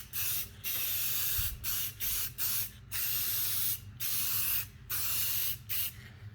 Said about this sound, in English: I'm just gonna spray a nice little coat of Rust-Oleum on them